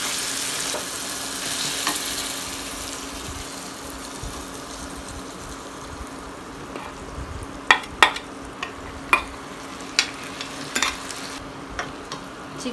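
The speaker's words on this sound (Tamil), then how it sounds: "அடுத்தது நம்ம சிக்கன் கொடுக்குறோம்." Chicken pieces added to sautéed masala in a pan for Tamil-style steamed chicken gravy, a soft steady sizzle with scraping stir strokes, then sharper clicks and knocks of a spoon against the pan near the end.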